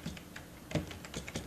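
Quick keystrokes on a computer keyboard while typing a web address, a short run of close, soft clicks at an uneven pace.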